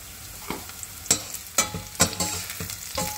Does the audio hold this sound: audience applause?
no